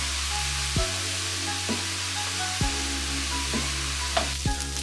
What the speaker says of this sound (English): So I just got done cooking the onions for about 2 minutes.